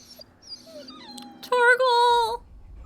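Torgal, a dog in Final Fantasy XVI, whimpers and moans in a rising, wavering cry that swells into a loud, drawn-out whine near the end, with faint game voices underneath.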